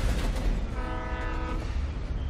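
A train in the video game Alan Wake rumbles past as its horn sounds a steady, blaring chord for about a second, over heavy low rolling noise, close and loud.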